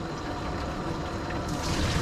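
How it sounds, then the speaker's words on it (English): Plain tap water sloshing and pouring steadily as a container that previously held soap is rinsed out in a small dog-grooming setting, a continuous close hiss with a brighter surge near the end. "this is just regular water. I'm gonna rinse this out a couple times"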